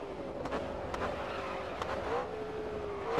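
McLaren race car engine in the Grid Autosport racing game, a sustained droning whine that rises and shifts pitch through gear changes, with a few sharp bursts of tire and track noise along the way.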